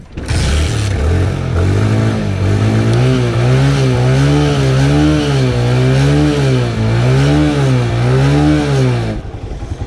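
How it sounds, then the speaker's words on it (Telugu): A motorbike engine, freshly refuelled with petrol, fires up and runs loud and steady at a rough idle with a throbbing pulse, then cuts off just before the end. "బండి స్టార్ట్ చేద్దాం."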